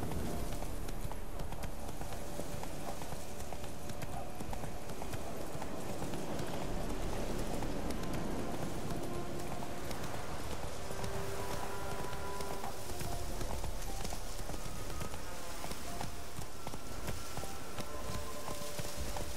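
Roach, Geralt's horse in The Witcher 3, gallops for a long stretch with continuous, even hoofbeats in a close, loud, driving rhythm, set against a dense outdoor ambience that sounds like rain or wind.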